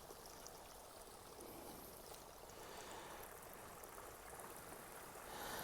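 A stream of water flows out of an opening in the ground along a hiking spot, a steady, even rushing and bubbling that runs unbroken throughout, soft and moderately close, with no voices.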